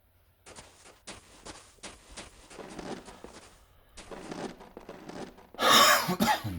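A series of harsh coughs and throat clearing comes in irregular bursts, close to the listener, ending in a louder, rougher fit.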